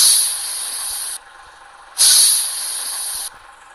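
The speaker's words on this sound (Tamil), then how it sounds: "ஹேண்ட் பிரேக் சவுண்ட் கேளுங்க." Two loud air hisses from a bus hand brake in a bus driving video game, each a sharp burst of rushing air lasting about a second, separated by a quieter pause.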